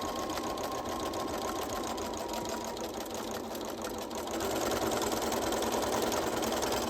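A sewing machine running steadily while stitching a lined bodice neckline seam, a close, continuous mechanical whir that grows slightly louder toward the end.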